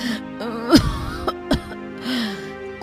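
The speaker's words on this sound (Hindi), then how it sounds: "ये कैसी खांसी है?" A cartoon character coughs a few times, sharp harsh bursts with a strained, moaning voice between them, heard up close.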